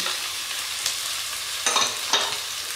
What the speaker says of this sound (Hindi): ऑयल गर्म हो गया तो अब हम इसमें डाल देंगे प्याज। प्याज के साथ ही हम टमाटर डाल देंगे